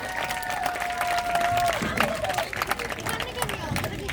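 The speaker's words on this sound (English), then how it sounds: "Let's give him a huge round of applause for that, everyone." Spectators at a falcon show in a safari park clap in a brief burst of applause, scattered hand claps with crowd murmur and a tonal whistle-like sound early on.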